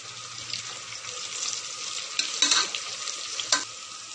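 Kasuri methi frying in a pan for spicy soybean bread bath, a steady hissing sizzle with a few sharper stirring scrapes toward the end, close and moderately loud with no voices.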